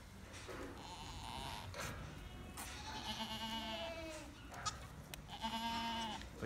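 Newborn baby goat bleating during a farm birth, several thin, wavering cries repeating over a steady background, fairly close but modest in level.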